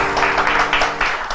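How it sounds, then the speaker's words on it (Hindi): A studio audience on a Hindi morning talk show bursts into loud, close applause, rhythmic clapping swelling in several quick waves. "अब तालियां बजानी है"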